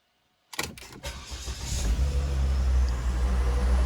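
A Volvo C30 AWD engine cranks with a few quick starter bursts, then catches and settles into a steady, close idle rumble.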